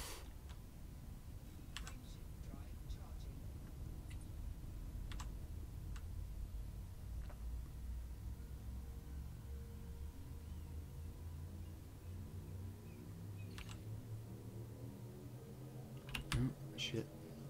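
Typing on a computer keyboard while playing a space trucking game, irregular light key clicks and taps scattered over a steady low drone, with a rising engine-like hum near the end.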